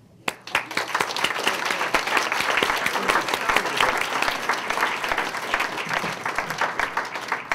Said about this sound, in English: all of you deserve a round of applause